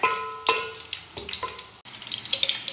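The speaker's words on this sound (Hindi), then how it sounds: "ये इसके अंदर हम डालेंगे और थोड़ा सा इसको फ्राई करेंगे खुशबू आने तक" Black cardamom, black pepper and cloves fry in hot oil, giving a light crackling sizzle broken by a few sharp pops and knocks, close and moderate, with a brief drop near the middle before the sizzle resumes.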